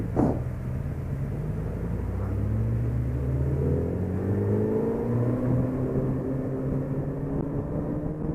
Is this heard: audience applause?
no